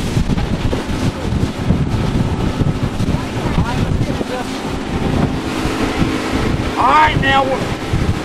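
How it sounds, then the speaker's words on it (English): Wind of about 18 knots blows hard over a Cape Horn 24 boat heading into choppy sea at the mouth of the St. John's River, a loud constant roar with wave slaps and faint creaks throughout. "now we're into the wind, about 18 knot wind"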